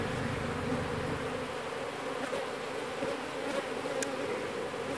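Honeybees drone steadily inside a hive in an abandoned house during a removal, a dense, continuous buzz close by with no talking.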